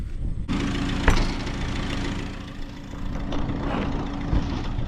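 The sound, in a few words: International tractor engine running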